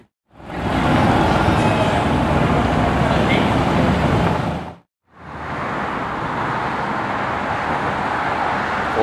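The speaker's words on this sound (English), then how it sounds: "AMG GTR Roadster again." A Mercedes-AMG GT R Roadster passes in city traffic with a loud, broad engine and road roar that cuts off briefly, then a second sustained pass follows close by.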